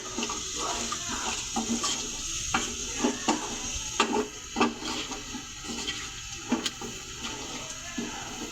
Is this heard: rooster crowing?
no